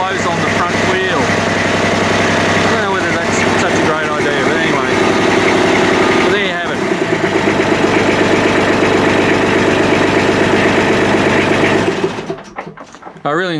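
Kubota B2100 compact tractor diesel idling shortly after a cold start, a continuous loud clattering drone under a voice that cuts off abruptly near the end.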